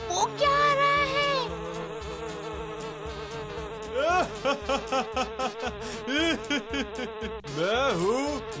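Cartoon flies buzzing loudly and continuously, a whining insect drone that rises and falls in pitch, with bursts of animated character vocals over it.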